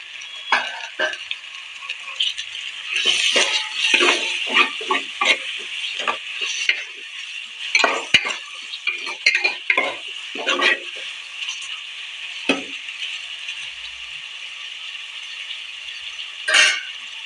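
Chicken kurma cooks in a pan while a spoon scrapes and stirs in quick irregular bursts over a soft sizzle; a voice talks intermittently.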